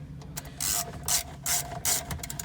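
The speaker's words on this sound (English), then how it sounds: "And then we're going to put our 4 bolts in." A ratchet clicks in quick bursts as bolts are fastened into a stereo bracket of a 2016–2020 Toyota Hilux, several close mechanical runs separated by brief pauses.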